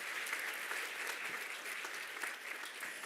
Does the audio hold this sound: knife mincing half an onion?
no